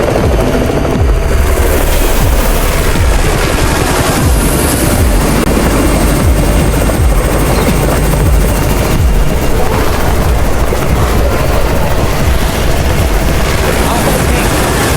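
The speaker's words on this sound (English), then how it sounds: "It's the Raven's chopper!" A loud helicopter roars continuously close overhead, its rotor thumping steadily throughout with no break, in the video game Undawn.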